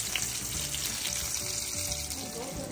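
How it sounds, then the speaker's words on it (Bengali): Eggplant slices coated in gram flour batter frying in hot oil, giving a steady, close, even sizzle that continues without a break and has no talk over it. "এই যে কি সুন্দর ভাজা হয়েছে বেগুনগুলি"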